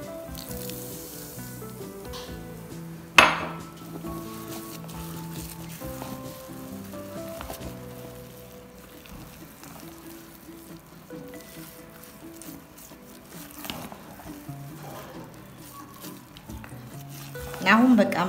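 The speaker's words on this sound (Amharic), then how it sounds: "ሁለቱን በጥብጠን ውስጡ ቀጥተን እናዋህዳለን ማለት ነው።" Baking soda and vinegar being stirred into a healthy bread batter for diabetics in a bowl, a steady wet stirring with faint fizzing and occasional utensil clinks, one sharp knock early on and a louder scrape at the end.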